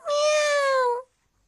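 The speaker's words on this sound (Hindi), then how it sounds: "ये वही बिल्ली है जिसको शिज़ुका ने बदलते वक्त पकड़ा हुआ था।" Cartoon cat gives one clear, loud meow lasting about a second, alone, followed by silence.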